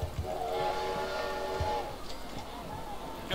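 Train whistle sounding in Roller Coaster Tycoon, a sustained steam-style tone held for about two seconds, then fading into a hissing rail rumble, with a few soft thumps underneath.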